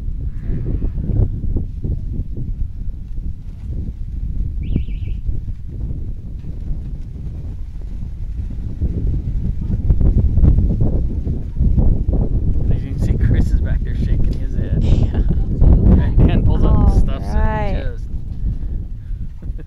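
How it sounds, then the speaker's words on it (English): Strong gusts of wind buffet the microphone in a steady low roar during an outdoor compound archery final, swelling louder midway, with voices and a few bleating animal calls on top. "That is really gusting."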